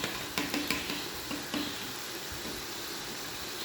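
Beef keema with whisked yogurt fries in a pot, giving a soft, low sizzle with a few spoon scrapes and clinks near the start, then a quieter steady hiss; no talking.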